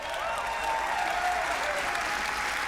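Steady dense audience applause fills a large conference hall at the Ubisoft E3 2019 press event, continuous clapping from a big crowd without pause, loud and close.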